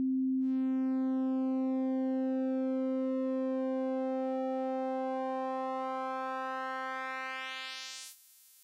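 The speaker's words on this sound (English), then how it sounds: "As I adjust the shape knob here, notice what happens to the shape of the waveform, and also notice what happens to the timbre" A Bitwig Phase-4 synth plays one sustained sine tone while its shape knob sweeps the phase distortion upward, so the pure note steadily grows brighter and buzzier, holding at a constant pitch before cutting off abruptly near the end.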